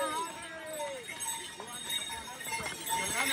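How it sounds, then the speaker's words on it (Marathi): Horse hooves clip-clop steadily along the Kedarnath mountain trek as a rider is carried uphill, with voices and other trail noise mixed in. "आम्ही चाललोय घोड्यावर"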